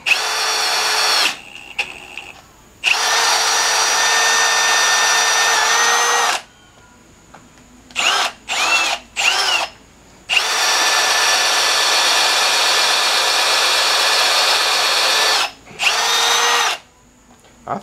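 A power drill bores into wood in long, loud, steady whining runs, stopping and restarting several times with short pauses and brief stuttering bursts between them.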